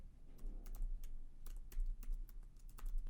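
Quick, steady typing on a computer keyboard, close and fairly quiet, with a run of light key clicks and no talk.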